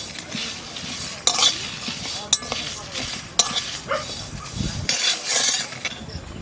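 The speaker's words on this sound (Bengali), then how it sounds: "প্রথমে শুকনো খোলা কটা মশলা বাজিয়ে নেব, মৌরি, জিরে, শুকনো লঙ্কা, ধনে," Whole dry spices (fennel seeds, cumin, dried chili, coriander and peppercorns) are stirred in a hot pan with a faint sizzle, a spoon scraping and clinking sharply several times.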